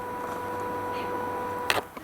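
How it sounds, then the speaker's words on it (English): Small cooling fan whirring inside a Panasonic HDC-TM700 camcorder, a faint steady hum with a thin whine running throughout, close up, with a brief handling clatter near the end and no talking. "hear the fan in there running now"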